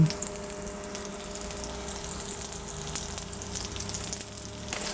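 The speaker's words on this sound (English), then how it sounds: "It's starting to sizzle now." Beef for a stir fry sizzles steadily in a frying pan, a continuous crackling hiss with small pops, fairly quiet and close.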